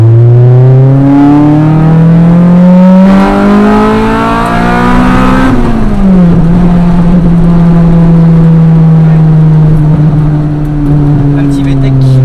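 A Honda car's VTEC engine revs hard and loud, its pitch climbing steadily for several seconds, then jumping sharply as VTEC engages before settling into a sustained high drone.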